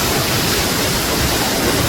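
Kerala Kund waterfall in Kerala, heard from the top, gives a dense, loud, continuous rush of falling water with no voices.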